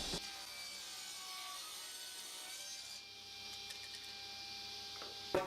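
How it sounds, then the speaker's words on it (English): A saw cutting 18 mm beech plate mats in a woodworking shop, a steady, moderately quiet rasping whine that holds evenly throughout, with a couple of sharp knocks near the end. "just cutting the plate mats now with the 18 mil beech and cutting the wings of it"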